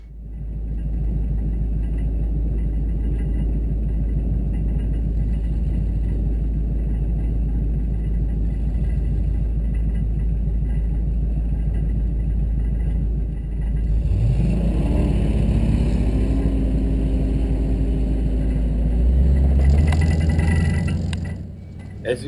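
A car pushes off-road through snow in second gear, its engine a steady low rumble that builds and revs harder partway through before easing off, close and continuous with no talk.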